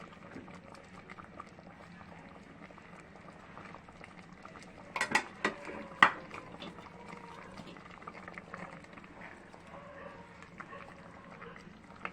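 Thick sweet-sour pickle syrup with fried spices bubbles in a pan, a steady low simmer with a few clinks of a utensil against the pan around the middle.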